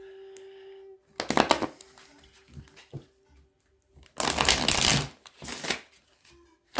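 Tarot cards shuffled by hand in two loud riffling bursts with softer handling sounds between, close up, with a faint steady tone in the background.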